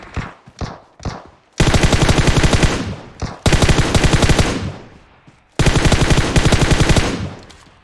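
Rapid bursts of machine gun fire in PUBG Mobile, loud and close, with a few short single shots at the start and three long sustained volleys.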